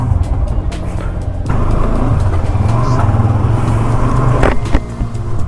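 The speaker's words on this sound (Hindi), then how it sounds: "सुबह सुबह अपनी बाइक थोड़ी मिसिंग करती रहती है" Motorcycle engine running on a cold winter morning while setting off from Delhi Cantonment, a loud, close, steady rumble that thickens after a moment, with a few sharp transient bumps; no talk.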